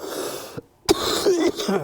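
Someone coughs and wheezes in a short fit of harsh, rasping bursts, close to the mic, with a brief pause in the middle.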